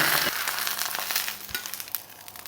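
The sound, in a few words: searing food in a hot pan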